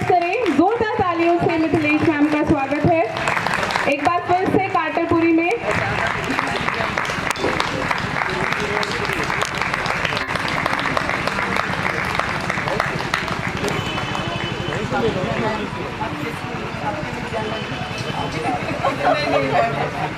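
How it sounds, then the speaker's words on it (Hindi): Audience at a school retirement ceremony breaking into sustained applause after a brief spoken introduction, the clapping building into a dense, steady roar that carries on for many seconds with some chatter underneath. "जोरदार तालियों से मिथिलेश मैम का स्वागत है।"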